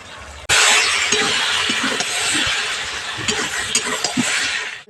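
A lid comes off a pot of simmering Malabar spinach chachchari, followed by a loud, steady hiss of steam and bubbling with faint clinks, close up.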